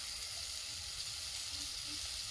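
Prawns sautéing with capsicum in a pan give off a steady, dense sizzle that hisses on without a break. No one speaks over it.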